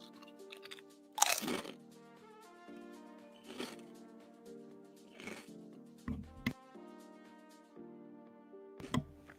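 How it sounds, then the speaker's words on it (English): Someone chews something crunchy close to the microphone, with sharp crunches at irregular intervals over a quiet, steady tonal background. "How's that for some crunch?"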